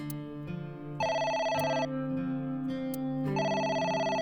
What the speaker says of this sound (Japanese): 電話だ。 出てみたらどうだ？